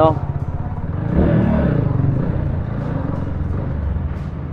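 A Rusi Titan 250 Fi motorcycle runs beneath a voice, its engine a steady low rumble with a rise around a second in as it pulls, then holding an even throb.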